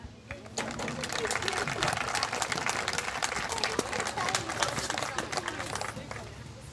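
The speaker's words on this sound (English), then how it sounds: "going through all they went through this year deserves a round of applause right now" An audience applauds senior athletes at a college acceptance day with a dense, sustained burst of clapping that carries on for several seconds, mixed with voices in the crowd.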